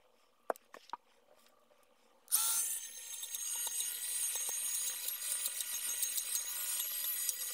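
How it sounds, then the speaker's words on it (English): A Dremel rotary tool sands the edges of a homemade Spider-Man web-shooter cosplay prop, starting abruptly after a few faint taps and holding a loud, steady high-pitched whine with slight fluctuations as it grinds. "to get this exactly how I want, I'm going to use a Dremel and sand it down"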